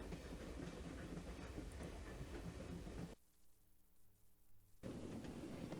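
Rhythmic clickety-clack of a train riding along the rails in the Anastasia: Adventures with Pooka and Bartok video game, a steady rumbling loop that drops to a quieter hum for a moment before resuming at full volume.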